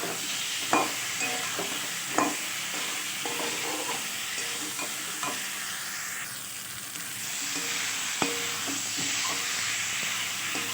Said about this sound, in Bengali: মশলাটা খুব ভালোভাবে তেলের সাথে কষাতে হবে